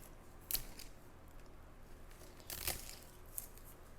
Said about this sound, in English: And then I think we'll take a cutting here.